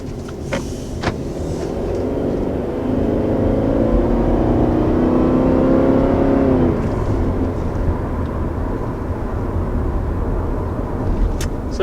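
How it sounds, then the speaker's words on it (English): A 2020 Subaru Forester with a four-cylinder engine accelerates, heard from inside the cabin as a steady low drone that climbs in pitch for several seconds, then eases back to a settled cruise hum; no talking. "there's our first acceleration in the 2020 Forester."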